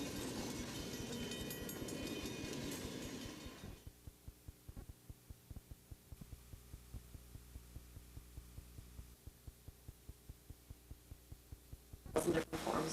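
A train running on rails on the Iron Range: a loud, dense rumble for the first few seconds, then a long run of steady, evenly spaced clicks over a low hum, ending in a brief louder burst.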